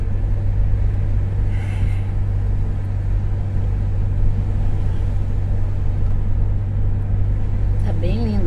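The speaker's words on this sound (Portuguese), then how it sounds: "Bastante carro também." Steady rumble of passing cars on a beachfront road in Tramandaí on a calm afternoon, a constant low drone with a faint engine sweep near the end, heard at moderate distance.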